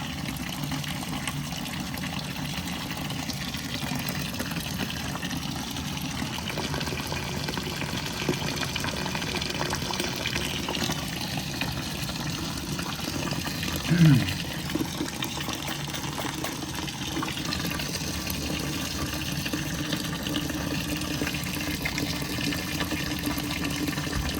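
An automatic water feeder pours water into a steam boiler in a continuous rushing fill over a low mechanical hum, with one brief squeak partway through.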